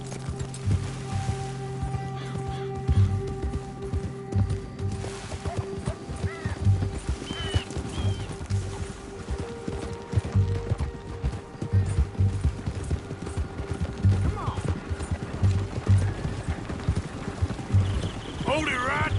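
A horse gallops in Red Dead Redemption 2, its hooves beating a steady, rhythmic clip-clop throughout alongside game sound effects, with occasional voices talking over it.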